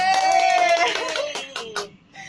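Hand clapping at home after a family prank, mixed with laughter and cheerful voices, a short burst of claps rising and fading over a couple of seconds.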